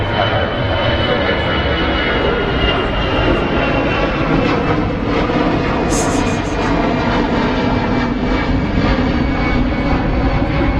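An airliner takes off from runway 27 right at London Heathrow, a loud continuous jet engine roar that stays steady, close and dense for the whole stretch, with a voice talking over it.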